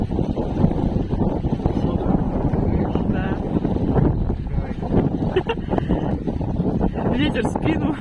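Strong wind gusts buffet the microphone in a constant roaring rush on a Siberian river, with faint water and catamaran paddling sounds beneath.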